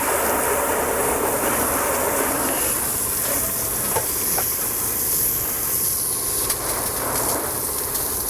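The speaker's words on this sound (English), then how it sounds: "I'm going to take my hose, I'm going to wet everything down" A garden hose fitted with a fireman-style nozzle sprays a fine mist under a Ford Mustang GT SN95, giving a steady, close, broadband hiss that runs unbroken without speech.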